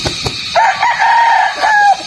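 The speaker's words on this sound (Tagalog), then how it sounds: "Naghahapon na yung mga manok" A rooster crows loudly and close at a gamefowl breeding farm in the afternoon, one drawn-out cock-a-doodle-doo after a few short clucks.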